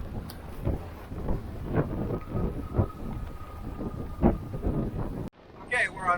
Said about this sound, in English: Wind is a little bit less at 16, 17 knots.